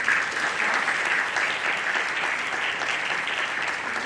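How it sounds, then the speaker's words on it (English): Sustained audience applause fills an awards reception, a dense, steady wash of many hands clapping at even loudness from start to finish, with no speech over it. "Please also give them a round of applause."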